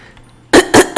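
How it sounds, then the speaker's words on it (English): Three loud, close coughs in quick succession from someone who keeps coughing despite drinking water, following a quiet half-second, with no talk. "I'm sorry I keep coughing."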